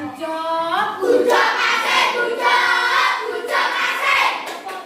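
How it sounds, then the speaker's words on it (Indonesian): Children in a classroom clap their hands together while shouting and chanting in loud, overlapping voices, and the cheering stays strong and steady throughout. "Tepuk tangan untuk kita."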